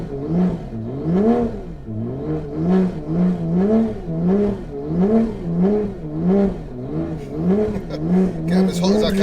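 Stage 3 760hp Toyota Supra at a drag strip, engine revving in steady rhythmic waves, loud and close, rising and falling repeatedly for several seconds.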